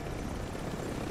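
Helicopter in the Warzone video game, a loud, close, steady rotor and engine roar filling the whole moment with no talk over it.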